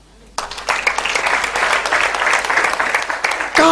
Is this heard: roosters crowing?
no